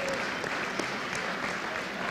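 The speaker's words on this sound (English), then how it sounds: "How about a big round of applause?" Dense, steady applause from a large crowd at an athletic banquet, a continuous wash of many hands clapping at once without pause.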